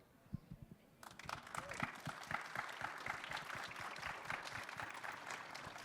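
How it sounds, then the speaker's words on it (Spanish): An audience bursts into applause after a poetry reading at a book fair literary event, the clapping starting abruptly after a quiet moment and building into steady, dense applause that fills the room. "Aplauso para la gran poetrans Susi Shock"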